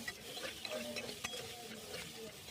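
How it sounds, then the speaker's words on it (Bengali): Potato pieces fry in a little oil in a pressure cooker, a soft steady sizzle with faint stirring and scraping at low volume, no talk over it. "আলু কটু ভেজে নেব।"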